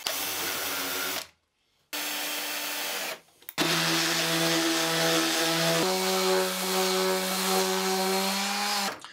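A power drill drives screws into clamped, warped pine boards, with several sustained whirring bursts separated by short pauses, the last long run shifting pitch midway, loud and close.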